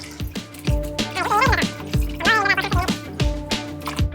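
A stove burner gets rinsed under running water, with splashing, dripping and gurgling that rise and fall in uneven bursts close by, and a voice speaks briefly over the water.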